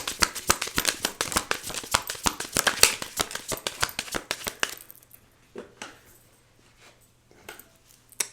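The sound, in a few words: shuffling tarot cards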